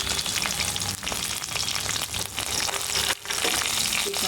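Dried red chillies, coriander seeds and garlic fry in hot oil for a brinjal-cucumber chutney, a loud, dense, continuous sizzle with stirring scrapes and a brief dip near the end.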